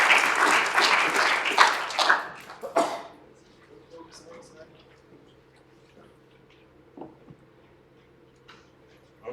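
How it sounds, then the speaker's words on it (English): A live audience at an ice-fishing edition pitch event applauds in a loud burst of dense clapping lasting about three seconds, then stops abruptly, leaving a quiet room with faint scattered noises. "let's give him a round of applause"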